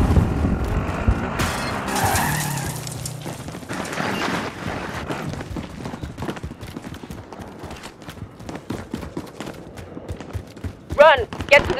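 A car driving and skidding in Call of Duty: Cold War, with tire squeal and engine noise amid busy game sounds, a sharp squeal near the end, and voices talking over parts of it.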